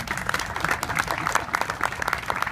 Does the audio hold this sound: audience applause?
yes